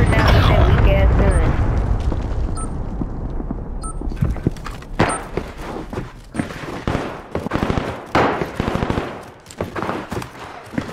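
Close, loud video-game gunfire, with sharp shots and bursts cracking out in irregular clusters, some blast-like booms among them, while someone talks over the action.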